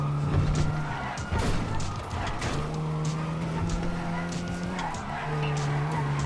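A car in a GTA game speeds through the streets of Los Santos, its engine droning steadily while tyres squeal and skid in long smears, with brief thuds and game noise layered in.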